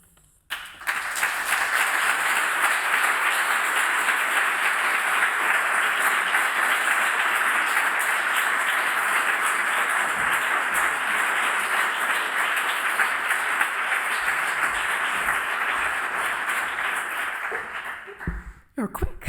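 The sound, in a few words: audience applause after a lecture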